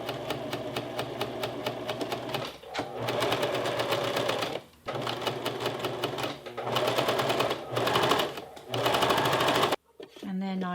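A sewing machine runs gathering stitches along the lower edge of a puff sleeve for a western blouse, a loud, fast, steady stitching rattle in several long runs broken by brief pauses.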